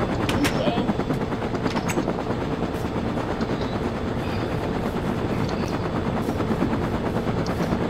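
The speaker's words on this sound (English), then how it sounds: "Up here by the helicopter." Helicopter in Minecraft, a continuous rapid chopping rotor drone with a rattling, mechanical texture, steady and fairly loud with faint clicks scattered over it.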